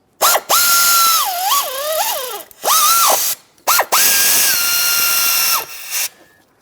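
A power tool ratchet spins, tightening the power steering pump mounting bolts on a 2003-2008 Toyota Corolla: three loud whirring runs rising and falling in pitch, separated by brief pauses.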